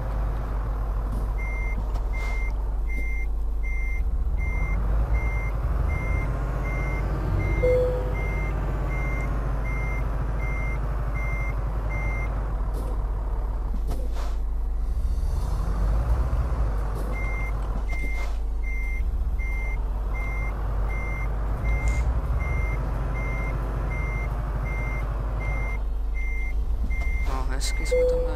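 Reversing beeps from an Iveco Stralis truck in Euro Truck Simulator 2, a steady series of evenly spaced electronic tones, loud and close over a constant low engine drone as the rig backs into a garage with a plastic cargo load.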